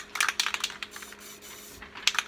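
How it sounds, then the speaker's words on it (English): A can of gray spray paint hisses through a stencil in a string of short, close bursts separated by brief pauses. "All right, we're good to spray now."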